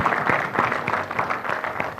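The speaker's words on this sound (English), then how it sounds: "a round of applause for the journalists here" A room full of people at a media chat applauds the journalists, a steady patter of many hands clapping at moderate loudness with no pause, sounding fairly close.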